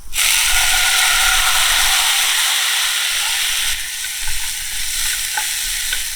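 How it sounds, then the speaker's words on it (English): A hot steak pan deglazed with acidic liquid for au poivre sauce gives a loud, close, steady sizzle and hiss that softens slightly partway through and carries on alone with no talking. "really it acts like any other acidic ingredient to deglaze that pan"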